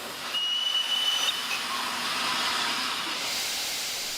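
Steady, loud steam hiss from the Flying Scotsman steam locomotive fills the scene, with a faint high whistle-like tone early on and a constant broadband rush throughout.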